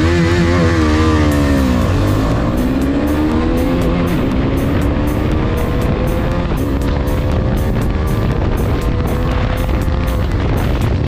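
KTM Duke 250 and Yamaha FZS 250 motorcycles in a short drag race: loud, close engines roaring and revving hard, pitch climbing and dropping through gear changes, continuous and alone.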